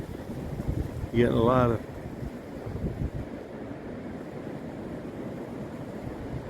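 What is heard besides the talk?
wind blowing on a ridge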